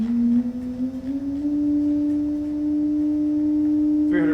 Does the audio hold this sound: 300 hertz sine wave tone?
yes